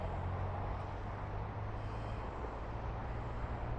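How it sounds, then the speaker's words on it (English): Steady traffic roar from cars on the M80 motorway, continuous and even, heard from a distance with no individual passes standing out and no talking. "I don't know if you can hear the cars in the background."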